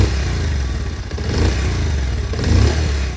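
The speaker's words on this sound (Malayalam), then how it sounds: "നോർമൽ ബൈക്കിൻ്റെ സൗണ്ടല്ല പൾസറിനുള്ളത്." A 2025 Bajaj Pulsar 150 twin-disc motorcycle idles and revs, its engine exhaust note a loud, close, steady low rumble that swells slightly near the end, heard alone without speech.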